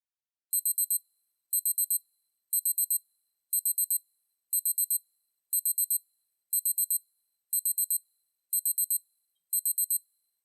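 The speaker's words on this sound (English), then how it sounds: "Here's an example of your countdown timer as it performs. You'll get 10 audible beeps." Ten short bursts of rapid high-pitched beeps from a Casio watch countdown timer, evenly spaced about a second apart, sound against silence.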